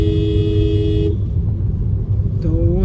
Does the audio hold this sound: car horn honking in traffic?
yes